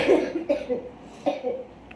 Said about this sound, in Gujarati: ખાંસી થઈ ગઈ છે, દવા લઈ લો.